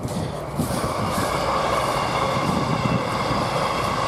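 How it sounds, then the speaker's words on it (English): A train rumbles past at close range, a steady loud roar of wheels and rail noise with faint clatter running through the whole stretch, no talking. "Damn, loading trains coming this way."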